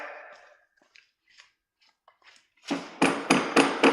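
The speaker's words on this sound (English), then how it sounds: "I have to do it with a hammer, of course." A few sharp hammer strikes land in close succession near the end, following a quiet stretch with faint soft handling noises.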